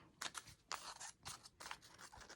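Scissors snipping a small piece of paper ephemera for a junk journal, four crisp close cuts in an even rhythm, quiet and alone.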